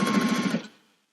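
A sewing machine stitching a seam on a boxed corner bag with a zipper divider pocket, a short close whirring burst of rapid stitches that winds down and stops.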